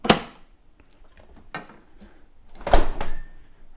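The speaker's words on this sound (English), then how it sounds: "close your door." A GE Profile refrigerator door swings shut with a sharp thud at the start, then quieter handling knocks and a second louder bump-and-rattle near the end.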